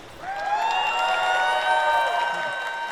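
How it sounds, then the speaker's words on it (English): A crowd at the Baltics Gaming Expo stage cheers for Team Lithuania with a swelling wash of applause, whoops and high shouts that holds loud for a couple of seconds then eases off. "can we see who's cheering for Team Lithuania on red side"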